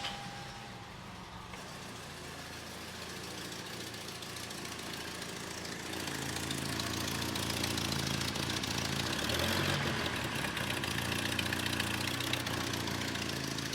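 A turbocharged Toyota pickup engine with a slight exhaust leak idles steadily nearby, a low, even rumble with faint ticking that grows a little louder partway through.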